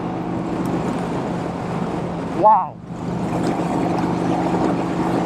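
Vintage Vincent Rapide motorcycle engine cruising in fourth gear on an Iowa country road, a steady close, throaty drone with wind, broken midway by a rider's brief exclamation.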